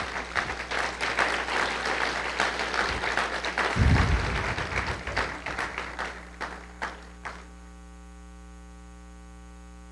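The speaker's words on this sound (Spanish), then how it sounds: "Dale un aplauso a Cristo" Church congregation applauding during a sermon at a worship event, a dense patter of clapping that swells for several seconds and then thins into a few scattered claps over a steady electrical hum.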